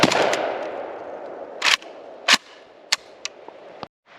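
An SGL Saiga 12 AK-pattern semi-automatic shotgun, built for 3-inch Magnum loads, fires Federal ammunition outdoors: a loud opening blast with a long rumble, then four or five sharp, spaced shots with echoing tails, with no talking.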